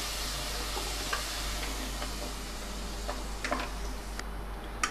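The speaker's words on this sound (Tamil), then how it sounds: "இது எல்லாத்தையும் நல்லா இப்போ வந்து மிக்ஸ் பண்ணிக்க போகிறோம்" Potato gravy being stirred in a pan with ground paste and water, giving a steady close scraping and sizzling texture with a few sharper spoon clicks and no voices.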